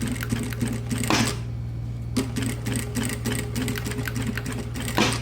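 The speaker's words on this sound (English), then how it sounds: "And then we put on the sewing machine very carefully, following the pins." A sewing machine stitches a needlepoint pillow along pinned seams, running in close, loud mechanical bursts with a steady motor hum and short pauses between runs.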